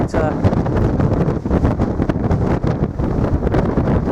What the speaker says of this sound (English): the wind's blowing it off here a treat